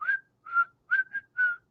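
Someone whistles the tune from the Kill Bill whistle scene: five clear, bright notes in a short rhythmic phrase, each sliding slightly, with silence between them and no talk.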